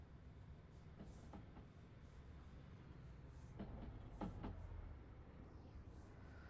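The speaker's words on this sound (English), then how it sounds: "Another train going by." A train passing on the Liverpool–Manchester railway line, heard faintly as a low, continuous rumble with a few soft rhythmic clicks from the wheels, distant and without talk.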